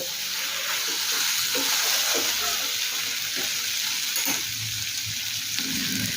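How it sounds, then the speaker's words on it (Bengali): Potatoes frying and being stirred into spice masala in a pan for Bengali ghugni, a steady close sizzle with occasional scraping stir strokes throughout, no talking. "আলু মশলার সাথে মিশিয়ে নেব আর প্রায় মিনিট 2 সময় নিয়ে মশলার সাথে আলু একটু কষিয়ে নেব"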